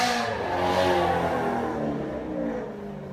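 A car engine revs and pulls away nearby, a steady mid-pitched drone with rising then fading tone over about three seconds, no talk.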